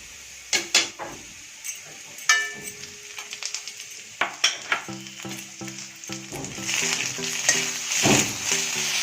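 Onions browning with ginger garlic paste fry in a pan, with a steady sizzle that grows louder toward the end, punctuated by sharp clinks and taps of a spoon stirring against the pan.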